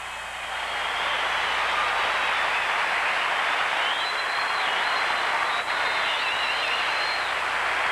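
A home crowd at the 1982 NCAA men's gymnastics championships at Nebraska applauds a floor exercise routine, with dense, sustained clapping that rises quickly and holds loud and steady throughout.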